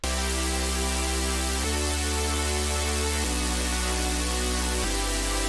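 A sustained synth chord with sidechain compression plays in four even blocks, each shifting pitch, with a dense buzzing texture and no voices.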